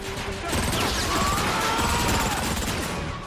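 Burst-fire rifle shots from a three-round-burst weapon in Transformers: Fall of Cybertron, a continuous loud volley of mechanical shots and crashes blending together.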